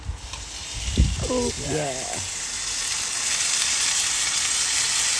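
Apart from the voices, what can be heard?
dry-brined salted steak searing in oil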